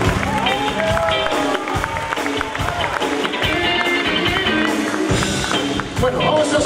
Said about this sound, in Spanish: un aplauso para las bailarinas